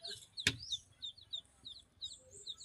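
Pet chickens near a newly built coop give a sharp, loud squawk, then a run of soft, quick clucks and chirps close by, with no one talking.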